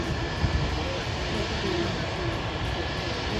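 A Jet2 Boeing 757 in Jet2 Holidays livery taxis at Manchester Airport, its steady jet engine whine and broad rumble heard from nearby at constant loudness.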